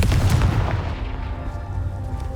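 Fiery Confringo spell blast in the Hogwarts Legacy video game, a loud, booming explosive burst with rumbling low end that decays over a couple of seconds, with no talking.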